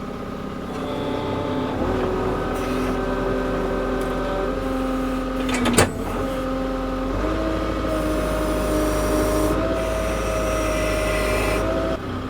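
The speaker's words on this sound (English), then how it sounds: "let's see how we do on this cherry log" A sawmill cuts through a heavy cherry log of roughly 1,500 to 1,800 pounds, its engine droning and shifting pitch as the blade bites, with a sharp clank midway, loud and continuous throughout.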